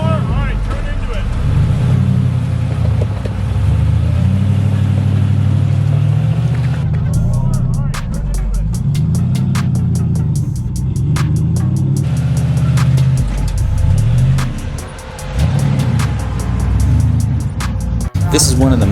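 An off-road rock crawler's engine labours up a rocky trail, droning loud and close with surging revs and scattered clicks and knocks from the rough ground, while voices speak intermittently.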